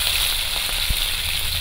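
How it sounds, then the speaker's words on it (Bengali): Shrimp frying in a little oil in a pan for a Bengali pumpkin and greens dish, giving off an even, fairly loud hissing sizzle with one soft thump partway through. "এবার চিংড়ি মাছগুলো প্রথমে ভেজে নেব।"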